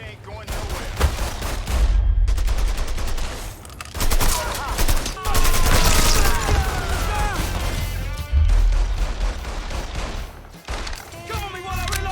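Heavy gunfire from the video game Mafia III: dense, loud bursts of rapid shots and crashing impacts that keep coming with only short pauses, mixed with shouted voices.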